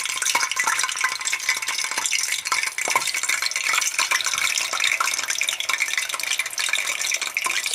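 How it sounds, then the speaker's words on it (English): Plantain frying in hot oil in a pan over medium heat gives a steady, close, dense sizzle and crackle that runs unbroken throughout, with a few soft clinks and stirring scrapes mixed in. "I would like to fry my plantain to medium heat"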